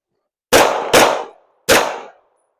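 Three loud, close handgun shots are fired during a holster drill. Two come in quick succession, then a third follows after a short pause, each with a brief ringing decay into silence.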